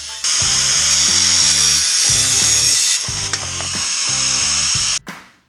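An angle grinder cuts off the passenger footpeg of a 125SR motorcycle, making a loud, continuous high-pitched whine for about five seconds before stopping abruptly, with rhythmic music underneath.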